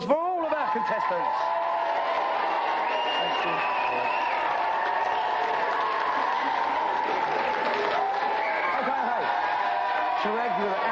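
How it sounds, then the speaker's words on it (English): Studio audience applause for the contestants on a television game show, a steady wash of clapping and crowd noise lasting throughout, with faint chatter and a voice talking over it. "let's have a big round of applause for all of our contestants"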